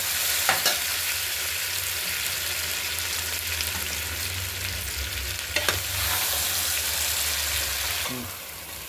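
Rasam (chaaru) stirred and frying in a pan, a steady close sizzle with scraping stir strokes at intervals throughout, no talk.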